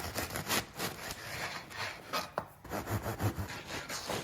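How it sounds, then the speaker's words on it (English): Bread knife sawing through a thick loaf of French bread, a soft, faint rhythmic rasping and crunching of crust, close up and steady over several strokes. "Get a good bread knife so you're not squishing your loaf of bread as you cut"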